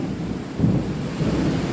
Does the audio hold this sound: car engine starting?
no